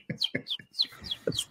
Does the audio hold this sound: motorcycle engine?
no